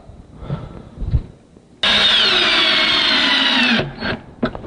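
A power drill drives self-tapping screws into the top of a simple bookshelf, one loud continuous whir of about two seconds, close up, between quieter handling knocks and clatter.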